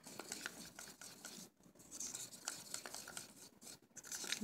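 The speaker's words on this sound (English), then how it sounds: "Just stir it up really good." Paint and resin mixture stirred in a small cup, a close, quiet, steady scraping and swishing with rhythmic strokes and brief pauses.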